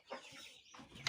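Chicks for sale give a few faint, soft clucking and cheeping calls in a quiet setting, brief and close.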